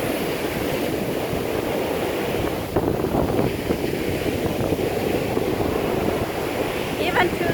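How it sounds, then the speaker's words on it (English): Strong surf crashes and rolls onto a beach while high wind batters the microphone during Hurricane Milton, a continuous loud roaring wash with gusty buffeting from start to finish. "the waves are really, really strong, and like the air is strong"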